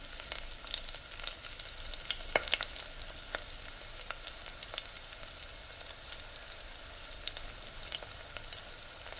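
Onions fry in a pan for quail thokku, a steady close sizzle with crackles and occasional stirring scrapes and clicks, no talking.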